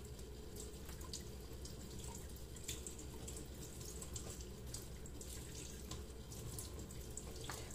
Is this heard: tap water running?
yes